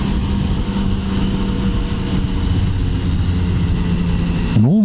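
A 2019 Yamaha MT-09 motorcycle engine idles with a steady deep burbling drone, close and continuous, ending with a brief rising blip of the throttle.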